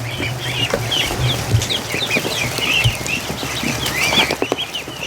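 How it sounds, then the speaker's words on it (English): A crowd of Muscovy ducklings peeps in a barn, a busy chorus of high, overlapping chirps over low background rumble and occasional soft knocks. "That's a lot of ducks going through that hole."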